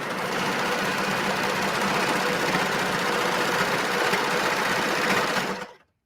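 Serger sews sweatshirt fabric in one continuous loud, close mechanical whir with a fast rattling rhythm for over five seconds, then winds down and stops.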